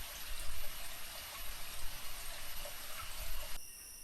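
Forest stream water flowing in a continuous, fairly close babbling rush with small surges, no voices, shifting abruptly in tone near the end.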